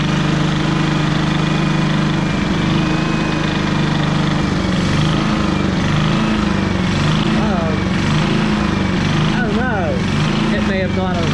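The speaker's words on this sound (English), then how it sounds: "See if it's got idle any better, particularly when it warms up." An 11-year-old Champion portable generator, suspected of a carburetor issue, idles continuously at close range with a steady low engine drone and vibration, and a voice talks over it.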